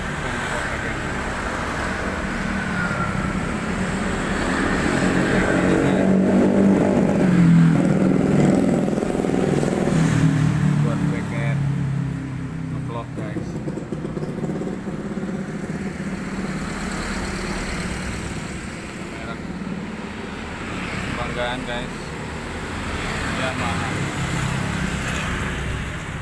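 A Yamaha XS650 motorcycle engine runs nearby, a low idling rumble that swells into a brief rev and then eases back, with voices talking over it.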